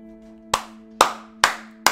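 Four slow, evenly spaced hand claps ring out loud and close, each a crisp single strike over a steady low background hum.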